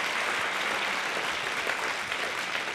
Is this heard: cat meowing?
no